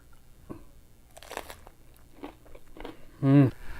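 Someone bites into crunchy fresh spring rolls filled with carrots, cucumber and herbs. Soft mouth sounds and light crackles lead up to one loud, close crunch near the end.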